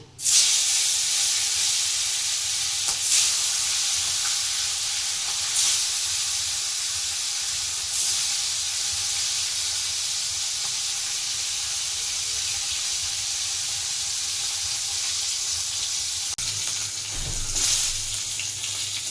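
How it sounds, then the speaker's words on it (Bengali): Bhola fish pieces dropped into hot oil in a wok sizzle loudly and steadily for the whole stretch, a dense, hissing fry with small bursts and a brief louder flare near the end, no voices. "এবার তেলটা গরম হয়ে গেছে, এবার মাছগুলো ছেড়ে দিচ্ছি।"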